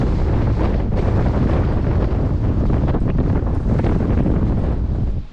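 Strong wind at Lake Powell roars and buffets the microphone, a loud, constant rush that drops off sharply at the very end.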